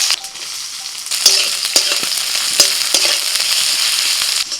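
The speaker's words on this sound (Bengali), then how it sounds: "ওর মধ্যে দিয়ে দিচ্ছি পেঁয়াজ কুচি।" Chopped onion fries in mustard oil in a kadai: a loud, close sizzle with sharp crackles and pops scattered throughout and occasional scraping stirs, with no voices.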